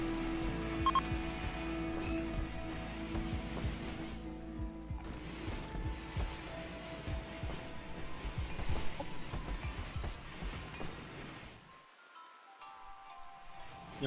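Heavy rain in the video game RimWorld falls as a quiet, steady patter with scattered drops, fairly faint and continuous, thinning out near the end.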